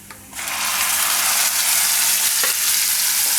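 Yogurt poured into a hot tempering of curry leaves and asafoetida for tomato raita: after a brief quiet start, a sudden loud, dense crackling sizzle bursts up and holds steadily, close and intense, with no voices.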